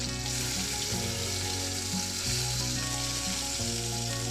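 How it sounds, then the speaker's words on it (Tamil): Fennel seeds and onion frying in hot oil in a pan for a potato and green peas fry, a steady loud sizzle throughout with faint stirring, no voices. "இப்போ சோம்பு போட்டுக்கிறோம். சோம்பு பொரிஞ்சதும் வெங்காயம் போட்டுக்கிறோம்."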